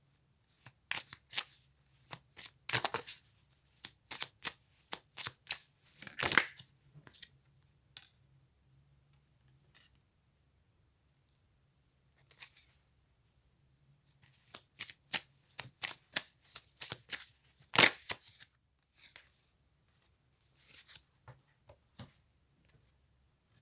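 A deck of cards is shuffled for a card reading in repeated riffling bursts separated by quiet pauses, crisp and close, with no voices.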